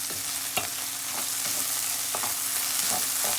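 Chopped onions and whole cumin seeds frying in a pan, a loud continuous sizzle with several scraping strokes of a spoon as the mix is stirred, close up and with no talking.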